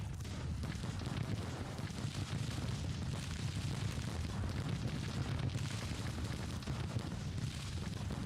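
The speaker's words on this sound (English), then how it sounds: "1st Pennsylvania's opening fire on Grattan's brigade" Union soldiers of the 1st Pennsylvania regiment open fire in the Grand Tactician Civil War strategy game, a continuous rumbling barrage of musket volleys and booms that rolls on steadily throughout.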